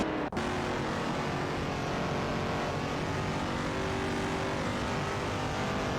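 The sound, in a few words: race cars driving in a racing video game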